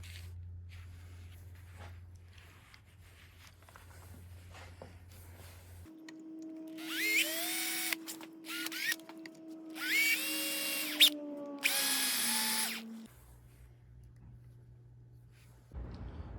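A power router cuts into a wooden guitar headstock, its high whine starting midway and sustaining with short bursts as the bit bites, then stopping, against a quiet motor hum before and after.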